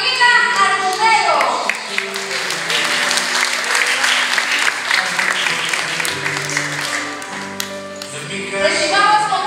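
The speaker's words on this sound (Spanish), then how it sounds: "con un fuerte aplauso a Angelina Sandoval" A crowd at a quinceañera party claps and applauds continuously, loud and close, with an announcer's voice and music carrying over the clapping.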